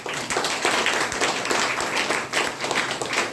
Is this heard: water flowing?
no